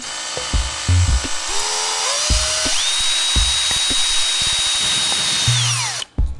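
A power drill whines up to a high, steady pitch and bores through the metal body of a Lexus LS400 car, then winds down, with a few clunks and knocks around it.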